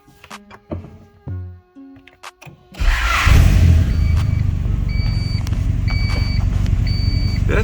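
A turbocharged sleeper Honda car cranks and fires up after a few short clicks and chimes, settling into a loud, steady idle close by, with repeated electronic beeps sounding over the engine.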